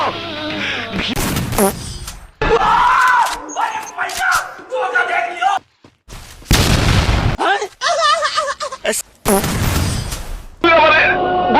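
Gunfire and explosions from the Free Fire video game come in loud, abrupt bursts with booms between gaps, mixed with excited shouting voices.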